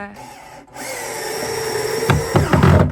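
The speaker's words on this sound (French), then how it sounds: "on est en train de visser notre première armoire supérieure" A power drill drives screws to fix a first upper kitchen cabinet onto furring strips, with a sustained motor whine swelling near the end and a few bursts of louder grinding and knocking.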